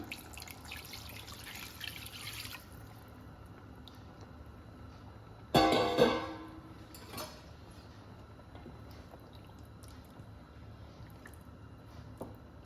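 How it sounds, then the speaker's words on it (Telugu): Water is poured into a pan of fish curry, making a brief loud splashing gush after a stretch of quiet kitchen hiss, then settling back to a soft background with faint drips. "ఇప్పుడు వాటర్ పోస్తున్నా"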